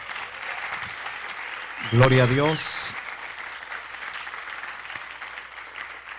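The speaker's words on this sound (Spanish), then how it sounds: "¿Cuánto le dan un fuerte aplauso al Señor?" A church congregation claps in praise, a steady wash of applause running through the whole stretch, while a voice briefly calls out over it.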